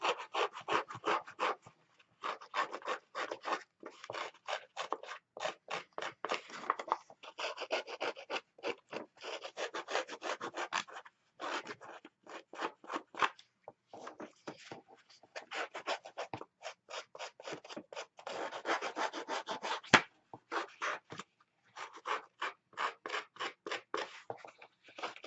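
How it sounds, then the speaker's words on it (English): Thick-pulp black cardstock is shredded and scraped by hand for a handmade card, a long run of quick rhythmic rasping strokes in short bursts with brief pauses between, close and fairly soft, with no talking. "this paper's got a real thick pulp, so it's going to shred a lot and be messy"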